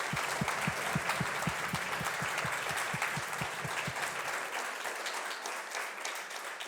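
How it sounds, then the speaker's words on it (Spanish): Audience applause at a feminist course session honoring Norita Cortiñas, loud, dense clapping from a crowd that holds steady, with a few rhythmic low thumps early on, before slowly thinning toward the end. "vamos a darle un aplauso a su"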